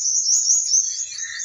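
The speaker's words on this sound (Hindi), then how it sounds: "चिड़ियाँ चिड़ियाँ चहक रही हैं भाई।" Birds chirp in the morning outdoors in a rural Indian setting, a steady high twittering close and fairly loud, with a couple of soft low sounds beneath and no talk.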